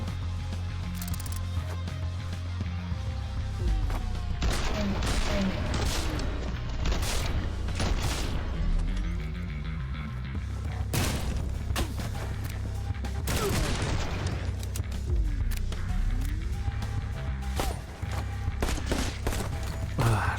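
Rapid gunfire in a shoot-dodge action game comes as dense bursts of sharp shots and booms over a continuous loud game mix, with short lulls and some swooping effects between the volleys.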